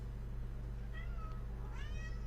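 A domestic cat meows twice, a short call followed by a longer rising-falling meow, close and clear over a steady low electrical hum with no talking.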